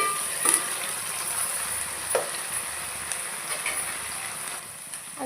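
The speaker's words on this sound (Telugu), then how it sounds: "ఆలుగడ్డ ఇవన్నీ ఒక్కొక్కటి వేసుకొని ఫ్రై చేసుకోవాలి." Potatoes and vegetables frying in oil for vegetable rice, a steady close sizzle with occasional stirring scrapes and clinks, no voices.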